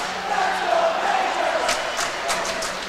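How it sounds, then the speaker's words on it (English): Dense, steady roar of a noisy hockey crowd at St. Mike's Arena during an OHL junior game between the Peterborough Petes and Toronto St. Mike's Majors, continuous and loud with occasional sharper shouts rising out of the din. "Noisy crowd here at St. Mike's Arena, as you might expect."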